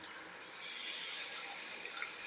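Water pours steadily into a cucumber and potato mixture for a roast casserole, a continuous soft splashing stream at close range with no talking.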